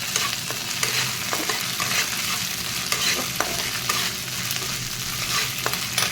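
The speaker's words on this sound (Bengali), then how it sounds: "যতক্ষণ না আদার গন্ধটা যাবে ততক্ষণ একটু ভালো করে নেড়ে চেড়ে নেব" Ginger is stirred in hot oil in a covered pan, a dense continuous sizzle with spattering crackles and scraping strokes throughout, close and steady with no pauses.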